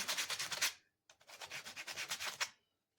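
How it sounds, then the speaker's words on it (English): Wood being sanded by hand with sandpaper in a woodworking shop, two close bursts of rapid back-and-forth scratchy strokes separated by a short pause, each about a second long. "and sand over everything"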